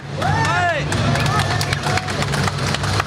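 A live audience applauds a podcast guest with a dense, steady patter of clapping, mixed with cheers and voices, close and loud throughout.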